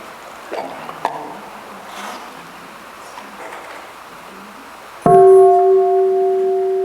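A meditation bell is invited with a half sound, a single clear metallic ring that starts after some quiet room noise and lingers, sustained and fading slowly.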